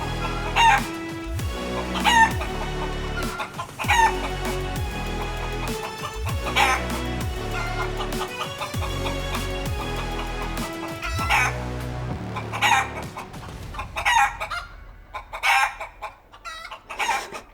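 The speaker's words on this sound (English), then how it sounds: "cueing the chicken sound" A chicken-and-rooster sound effect plays: repeated loud clucks and a rooster crow set over a rhythmic, musical backing that drops away toward the end.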